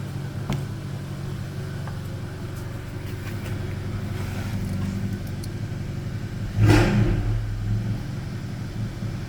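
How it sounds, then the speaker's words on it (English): A Volkswagen MK7 GTI fitted with a Borla S-Type exhaust idles with a low steady rumble, then gives one short throttle blip that swells briefly before settling back to idle; moderately loud and close, no talking. "rev it, tap it a little"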